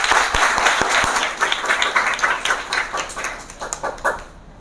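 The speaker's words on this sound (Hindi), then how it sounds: "एक बार जोरदार तालियां बजा के जय जय श्री राधे करते" Loud applause from a devotional lecture audience on Janmashtami, dense clapping that gradually thins into scattered claps and fades out near the end.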